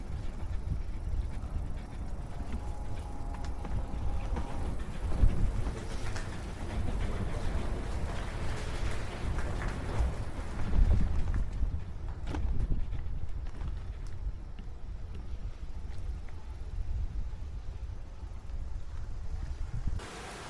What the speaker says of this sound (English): That's the noise you can hear, the weir.